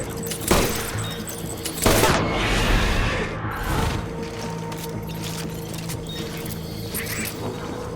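Bursts of gunfire in the Death Stranding video game, a sharp crack near the start and a heavier blast around two seconds, followed by a rumbling, crackling battle din with scattered distant reports.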